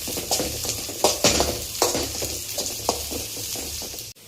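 Shredded cabbage and chillies stir-fried with onion for homemade noodles, a steady close sizzle broken by repeated scraping strokes of a spatula against the pan, ending in a sharp clatter.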